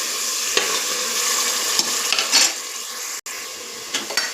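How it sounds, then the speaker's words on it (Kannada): Ground spice masala fries in a hot pan for a mint pulao, sending up a loud, dense sizzle close by, with spatula scrapes and clinks against the pan and a brief break near the end. "ಈಗ ರುಬ್ಬಿಟ್ಕೊಂಡಂಥ ಮಸಾಲ ಚೆನ್ನಾಗಿ ಹಸಿ ಸ್ಮೆಲ್ ಹೋಗೋ ತನಕ ಫ್ರೈ ಮಾಡ್ತಾರೆ."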